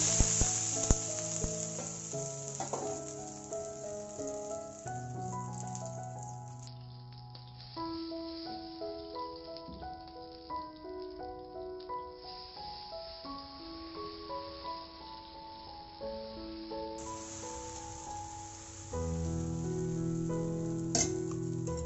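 Pesarattu, a green gram dosa, sizzles steadily as the batter fries on a hot pan, a soft continuous hiss under background music.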